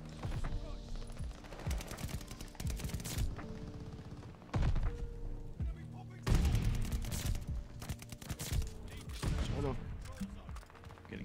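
Dense bursts of automatic gunfire and heavy thuds roll through a Call of Duty: Vanguard multiplayer match, loud sustained volleys broken by short pauses, with players talking over the action.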